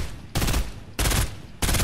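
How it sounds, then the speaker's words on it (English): Three sharp bursts of rapid gunfire ring out in a video game, each loud cluster separated by short pauses, as shots are fired at a sky base. "I'm gonna try and shoot it down."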